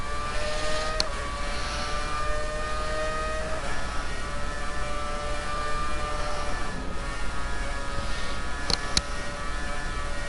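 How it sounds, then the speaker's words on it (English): A Formula 1 car in the F1 2019 racing game at the Australian circuit drones with a high, steady engine whine and little variation, loud and close, with no talk over it. "this car feels really good, but it's so loud"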